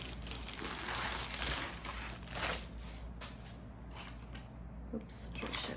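A diamond painting canvas package is opened, giving crinkly plastic rustling and crumpling in close, continuous bursts over several seconds with soft handling noises.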